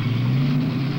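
A car pulls away after dropping someone off at home, its steady low engine hum carrying on alone and fairly loud for about a second.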